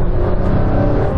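A loud, close roar of high-powered cars accelerating hard in a rolling drag race from 50 mph: a Porsche 911 Turbo S, Audi R8 and Nissan GT-R under full throttle, a steady dense engine drone.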